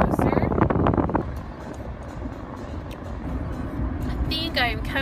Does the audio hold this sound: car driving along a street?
yes